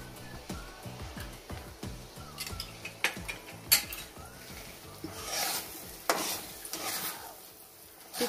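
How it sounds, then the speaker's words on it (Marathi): A spoon stirs and scrapes Bombay Karachi custard halwa cooking in ghee in a pan, with repeated metallic clinks and scrapes over a soft sizzle. "मीठ टाकून पुन्हा आपण असंच कंटिन्यूअसली हलवत राहणार आहोत"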